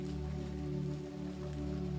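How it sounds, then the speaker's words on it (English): Steady rain falling on a gray, overcast day, a continuous even hiss with a low constant rumble beneath, heard alone without any voices. "It's unlikely there will be a break in the rain today"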